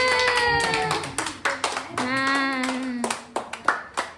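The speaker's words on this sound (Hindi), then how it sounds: "ताली बजा दो" Hands clapping at a family birthday celebration in a Santali household, a loose run of claps mixed with voices that talk and sing over them throughout.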